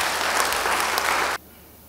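A church congregation bursts into a short, loud round of applause that stops abruptly, leaving near silence.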